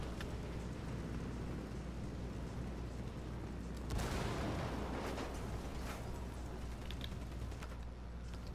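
Sustained gunfire in the open-world shooter Ghost Recon Wildlands forms a dense, continuous barrage that swells louder around the middle, then rolls on without pause.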